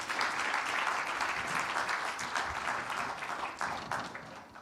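A conference audience applauds the experts and panel, a steady wash of many hands clapping that gradually thins out toward the end.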